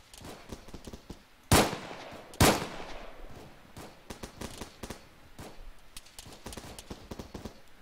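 Video game gunfire rattles in irregular bursts during a river crossing battle, with two loud close blasts early on among a stream of quicker, lighter shots and distant combat noise.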